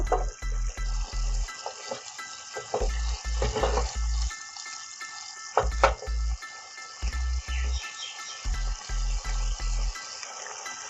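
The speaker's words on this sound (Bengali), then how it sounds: "এটাই কিছুক্ষণ আমি ফুটতে দিচ্ছি। যখন এটি সামান্য গাঢ় হয়ে আসবে তখন এটাকে আমি নামিয়ে নেব।" Chana paneer masala gravy bubbling and sizzling in a pan, a soft continuous simmer and spatter heard close under a repeating music loop.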